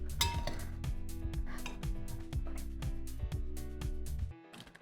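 Minestrone beans for a vegan soup going into the pot, heard as a dense run of metallic clinks and clatters from a utensil against the cookware, fairly close and steady before stopping abruptly near the end.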